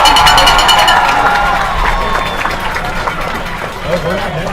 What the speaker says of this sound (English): Please give a round of applause to your senior band members.